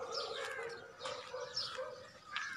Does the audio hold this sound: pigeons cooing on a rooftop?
yes